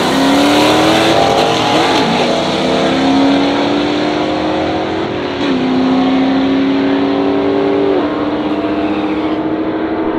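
A big-block 1970 Pontiac GTO and a 2009 Pontiac G8 with a 6.0 LS race each other down a drag strip, engines roaring loud and close as they climb through the gears in sharp shifts.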